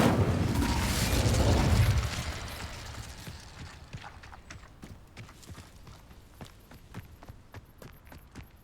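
The Incendio fire spell in Hogwarts Legacy, a loud whooshing fiery burst in the first two seconds that fades into faint crackling and scattered soft clicks.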